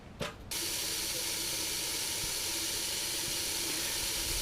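A garden hose runs water into the radiator of a 2001 Ford 7.3 diesel Super Duty; a short clatter comes first, then a steady, close, continuous hiss of flowing water that carries on alone.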